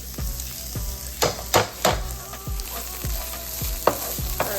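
Minced garlic sizzling in a pan with potatoes and chorizo while being stirred, a steady frying hiss broken by repeated scraping strokes of the spoon. Close and fairly loud, with no voices.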